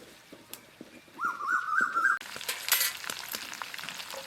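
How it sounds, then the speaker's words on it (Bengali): Tomatoes stirred into frying chicken in a kadai, with a crackling sizzle and scraping spoon strokes close by, and a brief high whining tone partway through. "টমেটোগুলো দিয়ে খুব ভালোভাবে নেড়ে নেব।"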